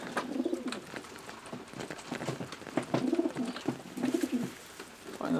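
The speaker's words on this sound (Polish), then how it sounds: "Gołębie." Pigeons in a loft coo softly and repeatedly, low throaty phrases overlapping with scattered rustling and faint chirps, close but quiet.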